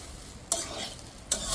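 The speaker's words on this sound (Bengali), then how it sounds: "পেঁপে কুড়ানোগুলো ভাজা ভাজা হয়ে গেছে" Pieces of papaya fry in a pan with a low steady sizzle, broken by two sharp scraping stirs about a second apart.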